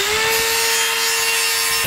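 DeWalt cordless saw cutting through a timber rafter on a two-storey extension build site, a loud, steady, close whine with a constant high tone, heard alone.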